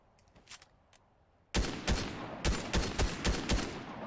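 Video game gunfire: a few faint distant shots, then a sudden close burst followed by a rapid, irregular string of loud sharp reports, each ringing briefly.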